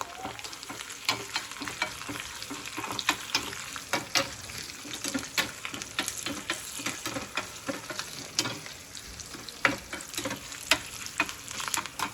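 Dried red chillies with a pinch of salt sizzling in hot oil for a tempering, a constant crackling fry punctuated by frequent light ticks and scrapes of a stirring spoon, close and clear.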